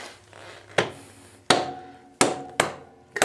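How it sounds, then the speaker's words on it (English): Rubber mallet strikes the rear axle of a BMW F800GS motorcycle during wheel installation: four sharp, separate knocks about a second apart, close and fairly loud, with a fifth starting at the end and quiet workshop hum between. "Once the axle is in, I'm gonna grab my rubber mallet"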